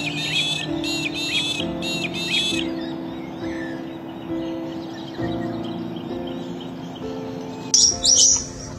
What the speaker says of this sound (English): Magpie larks.